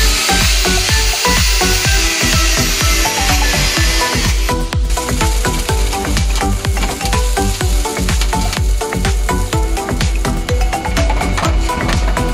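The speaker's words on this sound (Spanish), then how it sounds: "lo que vamos a hacer es reducir el tamaño del perno" A power tool grinds down a bolt during mechanical work on a bus being converted into a motorhome, running as a loud, continuous, harsh whir with uneven scraping pulses throughout.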